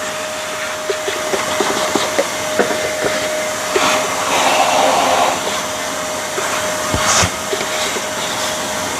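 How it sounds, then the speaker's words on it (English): A vacuum cleaner sucks leftover coffee out of a DF54 coffee grinder, a steady whirring drone with a faint tonal whine that runs continuously, swelling slightly midway, with small clicks and bumps as the nozzle moves. "So let's vacuum that out."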